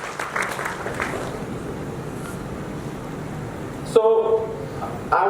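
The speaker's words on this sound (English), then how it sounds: "Guys, can we clap for these beautiful people?" Audience at a WordCamp Vadodara talk on building Gutenberg blocks with ACF clapping steadily as a dense, even wash of applause that runs for about four seconds, then cuts off abruptly before brief talk resumes.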